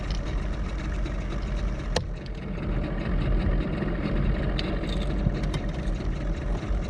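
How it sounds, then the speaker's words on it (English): A fishing boat's outboard motor running on Lake Lanier, a continuous low rumbling drone with steady water wash, close and fairly loud, with a couple of faint sharp knocks and no talk. "So I'm sure you can hear my motor's still running."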